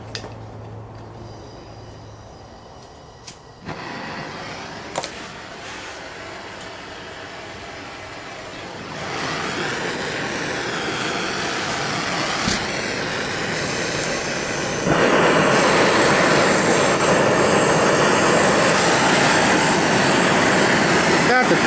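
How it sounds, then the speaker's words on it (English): A propane torch burning inside a small furnace, a broad roaring rush that starts softly and builds in distinct steps, getting louder and fuller until it becomes a steady, close roar. "Going to light my pilot light."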